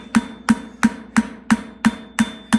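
A farrier strikes a hot steel horseshoe for a Salad Bowl shoe, beveling it foot-surface side up on the anvil: eight sharp, ringing hammer blows land in a steady, even rhythm about three per second, close and loud with no talking.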